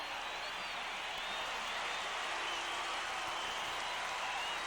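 Stadium crowd at an NFL game between the St. Louis Cardinals and Tampa Bay Buccaneers roaring in a steady, dense wall of cheering that holds at an even, loud level without breaks.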